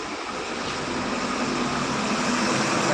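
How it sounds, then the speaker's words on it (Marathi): A vehicle engine drones past on a turmeric farm, a steady, fairly loud broadband rumble that holds even and slowly swells over about three seconds, with no one talking. "गाडीचा आवाज आहे"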